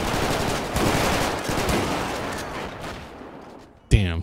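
Shotgun fire in GTA 5 during a military and SWAT police patrol, a rapid string of loud gunshots over a busy game soundscape, ending with one sharp close blast.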